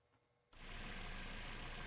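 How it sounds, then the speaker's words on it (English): A Toyota engine starts and settles into a steady idle during pressurized fuel injector cleaning, a dense, even mechanical rumble and whir that rises sharply after a quiet moment and holds constant, with no talking. "Let the engine idle until it stalls"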